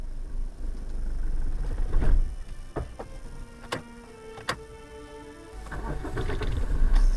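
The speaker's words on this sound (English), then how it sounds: "For some reason, I stalled the car." A car engine stalls while parking among boulders at a campsite in Namibia: a few short clunks and a brief falter, then quiet, with low rumbling vehicle noise before and after.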